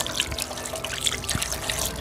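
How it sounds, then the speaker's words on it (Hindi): Water running steadily from a household tap once the pump motor is switched on, a continuous close splashing and trickling stream with no voices. "पानी आ गया।"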